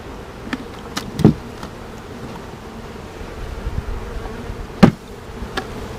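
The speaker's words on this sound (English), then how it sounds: "let's get the rest of the bees from the nuke." Honeybees buzzing steadily as they are shaken out of a nuc box during a colony transfer to a ten-frame hive, a close, continuous hum with a couple of sharp knocks or bumps.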